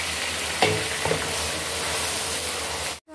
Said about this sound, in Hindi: अब इसको हमने फ्राई कर लेना है।